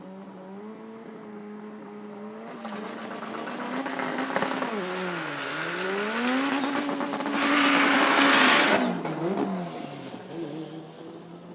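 Drag racing cars, including a Honda, launching at a no-prep event at Toronto Motorsports Park, with rising and falling engine howls, loud revving surges and a burst of hissing tire noise, heard from a distance.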